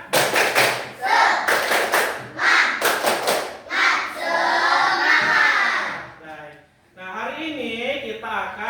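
A school class claps in a quick rhythmic pattern, then voices shout a cheer together, loud and close.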